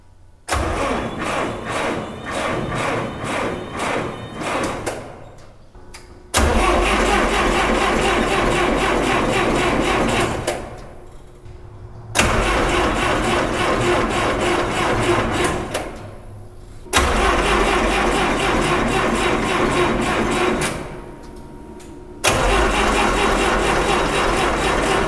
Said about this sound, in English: it doesn't have a muffler yet, so it sounds pretty sweet when you first turn it on.